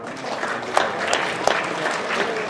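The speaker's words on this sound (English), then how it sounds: "Give him a round of applause." An audience at a university chemistry demonstration night gives a short round of applause, a dense clatter of clapping with a couple of sharper claps near the front.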